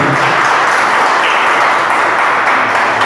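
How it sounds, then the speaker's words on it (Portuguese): A church congregation clapping for Jesus during a Portuguese-language service, a loud, dense and continuous wash of many hands applauding together for about three seconds. "palmas para Jesus"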